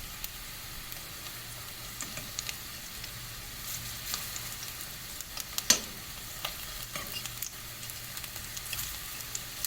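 Burger patties and onions frying in a pan, a steady close sizzle with occasional small pops and utensil scrapes throughout.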